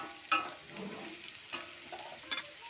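Potato and onion fry with spices in a pan, a soft steady sizzle broken by several sharp utensil clinks and scrapes against the metal, quiet and close with no talking.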